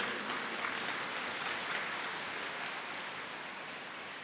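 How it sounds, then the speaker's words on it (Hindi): An audience claps together in a steady, dense, sustained round that holds evenly from start to finish, with no voices over it. "ताली बजाएंगे?"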